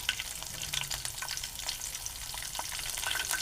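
Slit green chilies and garlic paste fry in a hot pan, giving a dense, steady sizzle with crisp crackling spatters throughout, close and moderately loud.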